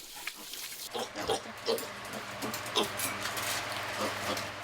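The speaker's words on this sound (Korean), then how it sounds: "뽀송뽀송 깨끗해진 아기 돼지들" Freshly washed piglets on a pig farm grunt and oink in short, overlapping bursts, close and moderately loud, with a faint hiss of background noise and no talking.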